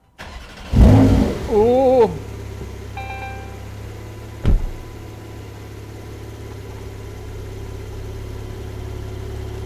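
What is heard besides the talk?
Porsche 911 Turbo S Cabriolet (992) engine starting and idling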